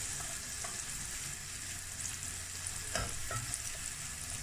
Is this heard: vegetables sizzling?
yes